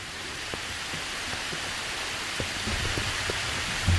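Steady summer rain patters softly and evenly on the roof of a small mountain hermitage temple hall, with a few scattered louder drips, no voices.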